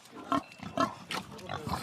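Close pig grunts from a farm in Auvergne come in four or five short, evenly spaced bursts, loud and near, with no voices over them.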